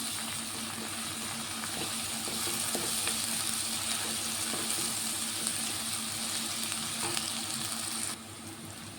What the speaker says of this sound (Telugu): కొంచెం పసుపు వేసుకొని ఒకసారి కలిపేసుకున్నాం.